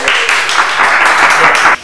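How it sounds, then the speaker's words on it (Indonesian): A short burst of audience clapping rises on a talk show stage, loud and close, lasting under two seconds before cutting off abruptly. "tepuk tangan dong"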